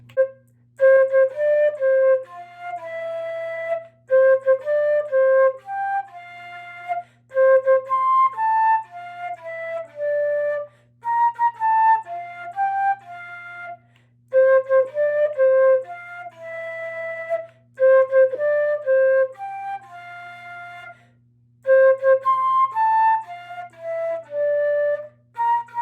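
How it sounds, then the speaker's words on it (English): A flute plays the Happy Birthday melody alone, clear sustained notes in phrased groups with short breaths between them, bright and close, repeating the tune over its full length. "That's how you play Happy Birthday on the flute."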